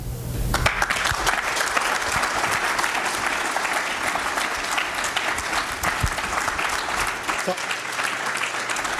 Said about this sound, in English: Let's give him an applause again.